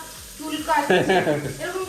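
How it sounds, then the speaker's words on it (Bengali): Fish fries in a pan in a home kitchen, a close sizzling crackle that rises and falls, with a voice talking over it. "মাছ ভাজা তুলে দিয়েছি"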